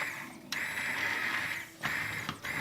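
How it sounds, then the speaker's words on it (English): An immersion blender whirs steadily while mixing corn chowder in a home kitchen, a loud continuous motor hum that dips briefly twice as the blade is shifted, with no talking. "But I have immersion blender, so I'm better."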